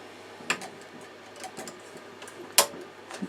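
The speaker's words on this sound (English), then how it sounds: "Make sure that your hoop clicks into your machine." An embroidery hoop clicking into an embroidery machine, a few quiet close clicks and taps with one sharper snap, no talking.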